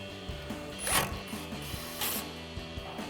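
A ratchet wrench tightens a 10mm bolt on a brake line bracket during a Ford F-150 front strut install, making close, rapid pawl clicks in a steady run with a couple of louder metallic knocks, no talking.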